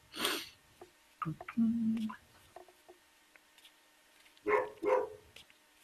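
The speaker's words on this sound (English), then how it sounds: "Damn dogs." Dogs bark in a few scattered, short bursts, with two sharper barks near the end, against a quiet background.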